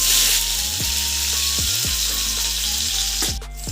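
Onions frying in hot oil over cumin tempering, a loud, continuous sizzle with a few stirring scrapes and clanks.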